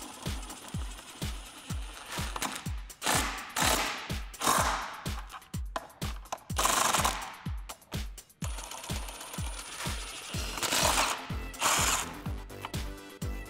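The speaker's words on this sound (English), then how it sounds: "we can take a 19 millimeter socket and go ahead and tighten those up" A ratchet with a 19 mm socket tightens the nuts on a Smittybilt XRC Gen2 rear bumper on a Jeep Wrangler JL, giving close, rapid pawl clicks in steady repeated bursts with short pauses between strokes.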